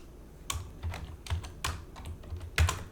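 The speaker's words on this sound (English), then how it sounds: "We could do it by just coming in here and typing the symbols that we want." Symbols being typed on a computer keyboard, heard as a run of sharp, close keystrokes in an irregular rhythm, with brief pauses and one louder tap near the end, no voices.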